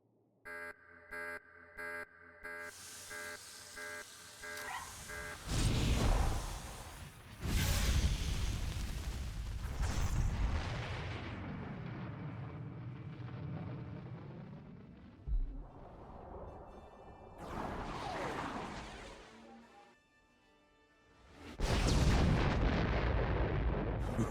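Artillery cannon firing at a target in the game Star Wars: The Old Republic, with electronic beeping before deep booming blasts and rumbling, roaring swells that rise and fade across the stretch, no voices heard.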